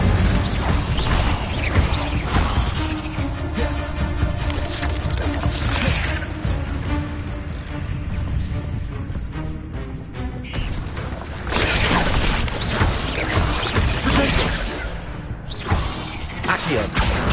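Incendio fire spell effects in Hogwarts Legacy on PS5: dense, loud whooshing bursts and crashing impacts follow one another almost without pause, with heavy swells near the start and again toward the end.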